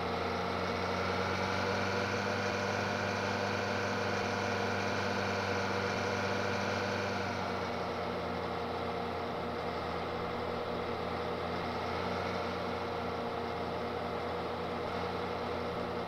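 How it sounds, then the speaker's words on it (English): Engine of a Bobcat brush mower in Farming Simulator 22, a steady droning hum that holds constant throughout and softens slightly partway, with no talk. "the Bobcat's really doing a good job here at it. We aren't even bogging down the engine"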